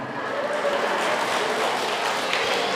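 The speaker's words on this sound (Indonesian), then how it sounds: "Tepuk tangan matu suami mo." A church congregation claps together for the husbands during a service, a brief, steady wash of applause with no pause.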